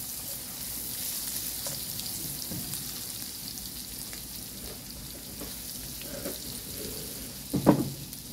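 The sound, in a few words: garlic being sautéed in a pan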